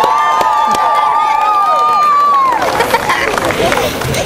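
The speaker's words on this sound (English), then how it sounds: "Let's hear a big cheer for asparagus." An outdoor Earth Day celebration crowd, many children among them, cheers and shouts loudly in a rising, rolling wave. Some high shrieks stand out above the babble.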